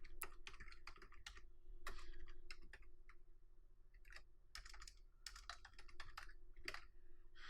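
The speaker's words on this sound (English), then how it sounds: "we're going to type in WP scan --URL HTTP and then the address of the site." Close, quiet typing on a computer keyboard as a WPScan command is entered, steady runs of rapid key clicks with short pauses and a few louder taps, no voices.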